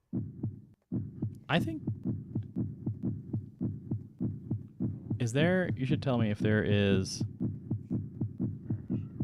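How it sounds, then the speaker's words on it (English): Steady heartbeat in the Threadbare video game, a loud, regular low thumping that keeps pulsing throughout while someone talks over it. "I'm trying to hear in stereo if there's actually a difference, if like the heartbeat is actually coming from where it is"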